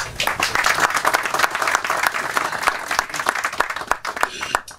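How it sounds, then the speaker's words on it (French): A hall audience at a community meeting of landowners breaks into sustained applause, a dense, loud patter of many hands with sharper individual claps standing out toward the end. "je vous demande de les applaudir"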